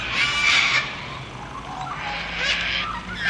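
An Australian magpie calls from up in a tree, a bright warbling chatter that rises and falls in two bursts at moderate distance, with no talk over it.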